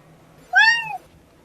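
A single close cat meow, about half a second long and rising then falling in pitch, stands out clearly against a quiet, faintly humming room.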